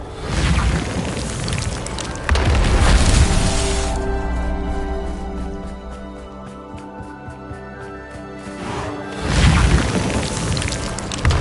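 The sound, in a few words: Reparo repair spell cast in Hogwarts Legacy video game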